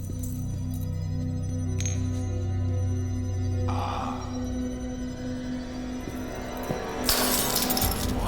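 A glass copy of a jewel is thrown and shatters, a sudden bright crash and tinkle of breaking glass near the end, preceded by low tonal hums and ambient drones, with no speech.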